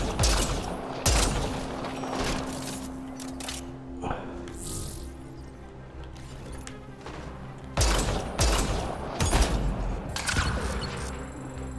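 Bursts of battle rifle fire from Mass Effect: Andromeda crack out in repeated volleys over a steady game soundscape, with heavier clusters near the start and again toward the end.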